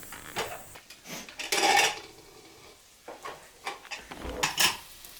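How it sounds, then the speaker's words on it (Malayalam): Metal clanks and scrapes of a pressure cooker being lifted off the stove and set down, with several brief knocks and rattles at close range. "നമുക്ക് കുക്കർ അങ്ങോട്ട് മാറ്റി വെക്കാം ഇറക്കി വെക്കാം"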